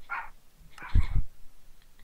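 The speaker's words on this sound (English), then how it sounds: "Dog is barking!" A dog gives a couple of close, sharp barks, a quick high yelp first, then a louder double bark a moment later, against a quiet background.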